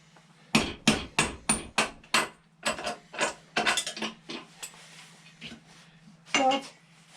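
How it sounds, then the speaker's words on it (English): Sharp metal hammer blows ring out in a quick run of about five strikes, then scattered irregular knocks, while restoring a VW T3 van; close and loud against a steady low hum. "A hammer."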